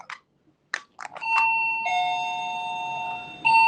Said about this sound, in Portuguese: Isso é uma campainha